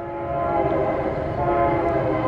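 A passing train near an old high school, a steady loud rumble with sustained tonal horn or wheel tones holding throughout, no talking.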